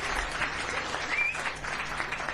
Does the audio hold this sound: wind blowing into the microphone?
no